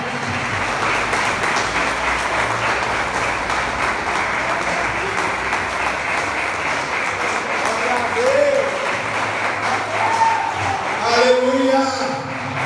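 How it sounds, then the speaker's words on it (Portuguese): A church congregation applauds at an evangelical service with a steady, dense wash of clapping that carries through the whole stretch, while voices talk and call out over it. "Você pode aplaudir Jesus por essas vidas?"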